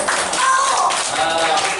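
A live audience at a church mission event claps together on cue, a dense, steady burst of many hands lasting under two seconds, loud and close with no talking over it.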